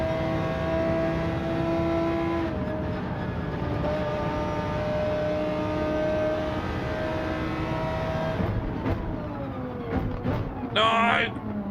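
Porsche race car engine in Gran Turismo 7, a sustained droning whine with rising and falling revs and shifting pitch, fairly loud, with a voice speaking over it.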